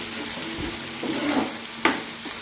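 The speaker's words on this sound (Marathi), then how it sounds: "तेलामध्ये असं फ्राय होऊ द्यायचं" Okra frying in hot oil in a pan, a steady close sizzle with brief stirring scrapes and one sharp crackle near the end, no voices.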